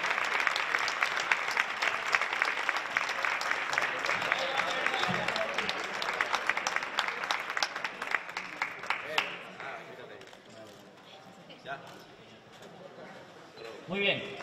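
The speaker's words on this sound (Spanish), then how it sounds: "Fuerte aplauso para ellos." Loud, sustained applause from an audience at a university tuna music contest awards ceremony in Cazorla, a dense clapping wash that fades to scattered claps toward the end, with voices over it.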